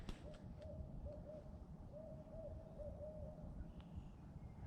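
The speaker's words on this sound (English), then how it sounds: "Oh, that is a barred owl." A barred owl hoots a series of rhythmic hoo calls from a distance in daytime woods, faint over steady outdoor background noise.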